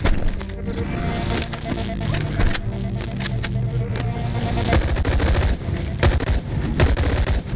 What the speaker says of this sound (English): And the zombie sounds with their projectiles that they throw on you.